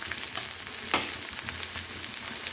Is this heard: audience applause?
no